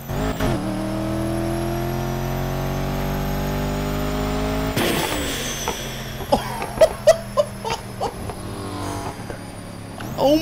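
A car engine in the video game Need for Speed Heat roars at steady high revs, then drops and surges again with short bursts of acceleration and gear shifts, loud and continuous.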